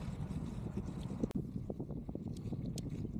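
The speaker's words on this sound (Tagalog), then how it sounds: "It's kind of windy today." Steady wind rushes and buffets against the microphone during a Sunday bike ride in Khalifa City, a continuous low roar with a sharp thump partway through and faint ticking above it, no talk.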